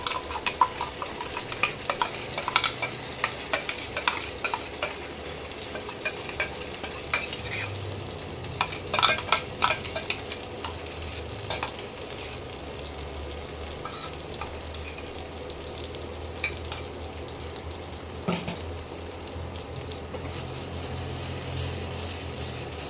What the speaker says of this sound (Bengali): এবারে পেস্ট করা মশলাটা দিয়ে দিচ্ছি